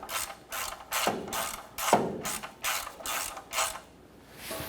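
A hand ratchet snugs the oil drain plug on a 1993–1997 Ford Ranger, clicking in a steady series of close, distinct ratchet strokes, with no talking.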